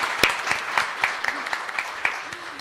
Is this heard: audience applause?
yes